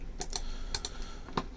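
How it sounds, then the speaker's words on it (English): A computer mouse clicks during AutoCAD drafting work, a few sharp, close clicks in small pairs and singles with quiet gaps between them, no talking. "you'll hear me clicking away on the mouse"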